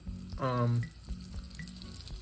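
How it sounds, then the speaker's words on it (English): A brief burst of sizzling from butter in a hot pan, crackling briefly and then fading to a soft, quiet fry. "Ooh, and it's sizzling."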